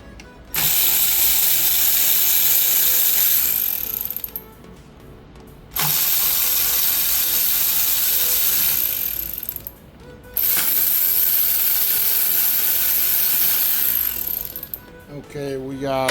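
A ratchet spins out the bolts on a ZF 8HP automatic transmission from a BMW, Jaguar or Range Rover Velar, in three long, loud, close bursts of rapid clicking separated by brief pauses.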